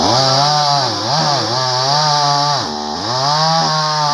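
Petrol chainsaw cutting wood, a loud close-up whining engine roar that dips in pitch under load and recovers as it bites through, with no talking.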